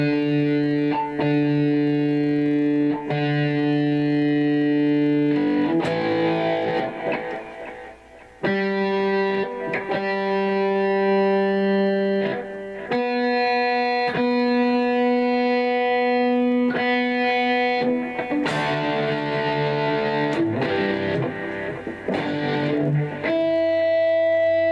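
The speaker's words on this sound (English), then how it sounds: "you can have super nasty gain, which I got on right now. Disgusting level of distortion." Freshly assembled custom-built electric guitar played through very high-gain distortion, sustained crunchy chords ringing out one after another with brief gaps as they change, loud and saturated with no voices.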